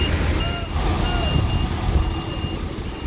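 A large truck reverses with a steady, repeating backup beeper near a harbor pier, its engine rumbling loudly beneath the beeps throughout.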